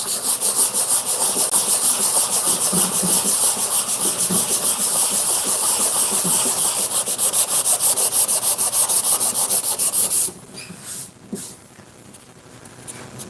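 Wood veneer being hand-sanded with 400 grit sandpaper, a steady rhythmic rasping that is close and loud for about ten seconds, then stops and gives way to a few quiet bumps and handling noises.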